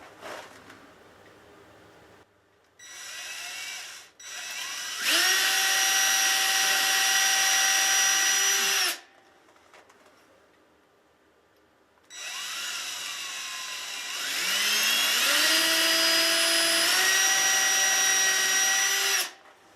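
Electric power drill boring into a cellar wall while putting up garage shelving, in two long loud bursts with a rising whine as the motor spins up, separated by short starts and a quiet pause.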